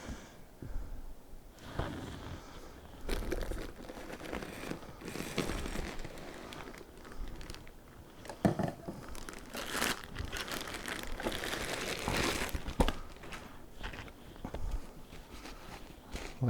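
A GVM SD200B Pro light is unpacked from plastic packaging at close range, giving quiet crinkling and rustling of plastic with scattered sharp crackles, bumps and handling knocks spread irregularly throughout.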